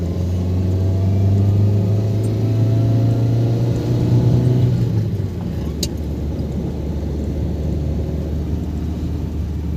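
A Toyota car engine revs steadily as the car climbs a hill on a road near Los Baños. The engine drone is moderately loud, then drops to a lower rumble midway.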